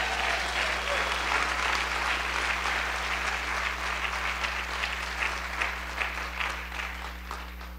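A church congregation applauds during a Spanish-language worship service, a thick continuous wash of clapping over a steady low hum, with some voices mixed in as it slowly eases toward the end.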